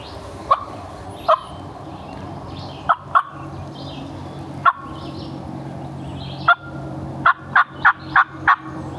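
A wild turkey gobbler gobbles repeatedly from a distance across a ridge, sharp rattling calls in scattered bursts over a steady outdoor hiss, ending in a quick run of several gobbles.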